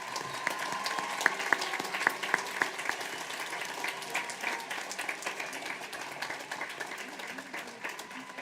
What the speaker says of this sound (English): Let's give our top 25 a round of applause